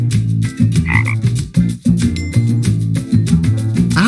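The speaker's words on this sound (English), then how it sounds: "A frog." A frog croaking in an animal puzzle app, loud cartoon-style croaks playing over a bouncy musical loop.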